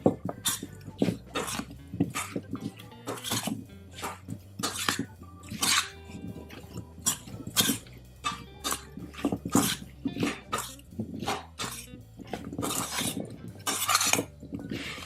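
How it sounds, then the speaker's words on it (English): A spoon mixing seasoning in a small bowl, a rapid irregular run of clinks and scrapes against the bowl, close and fairly quiet, continuing throughout. "I'm gonna mix it up with a spoon"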